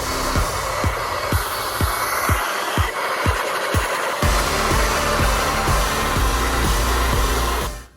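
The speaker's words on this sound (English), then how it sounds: "Take our blow dryer, high heat, high blow." A blow dryer on high heat and high airflow drying hair runs as a loud, steady whoosh with a constant motor whine, with rhythmic thumps in the first half, then cuts off abruptly at the end.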